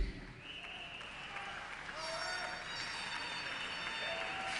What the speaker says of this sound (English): Well, that's awful polite applause over there